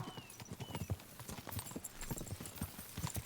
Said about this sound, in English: spur the horses on